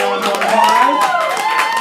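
Audience applause at a poetry slam in Orlando: steady crowd clapping with some cheering, mixed under tonal voices and chatter that carry through the whole short stretch.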